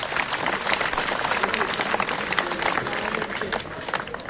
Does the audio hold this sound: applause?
yes